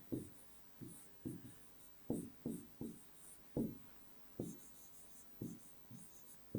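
A pen scratches across paper as a formal letter is written by hand, a series of short, distinct scraping strokes in an irregular rhythm, close and quiet, with no voices.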